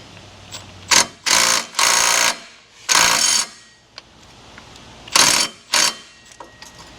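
A manual ratchet works a truck's crankshaft bolt, rated around 300 ft-lb, in loud, close bursts of rapid clicking separated by short pauses, with a few fainter single clicks between them.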